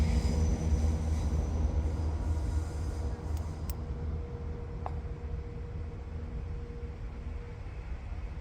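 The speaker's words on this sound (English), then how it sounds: "There goes another train" A train rumbling past a stealth campsite, a loud steady roar of rolling wagons that eases off a little, with a couple of faint metallic squeals near the end.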